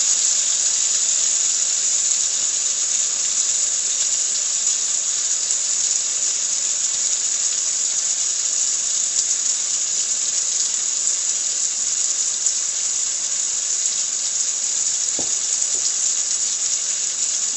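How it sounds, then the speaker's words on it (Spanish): Steady hiss of a hot pan of yellow rice with sausages just after tomato sauce is poured in, a constant bright sizzle holding level throughout with one brief click near the end. "Voy a agregar la salsa de tomate."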